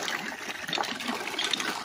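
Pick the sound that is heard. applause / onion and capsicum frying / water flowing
water flowing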